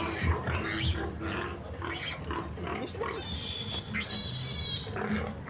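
Piglet squealing during castration, with shrill, rising cries that come in bursts near the mic, mixed with people talking and handling noise.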